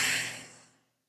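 A single slow, breathy exhale during a box breathing exercise, starting strong and fading smoothly to silence within about a second.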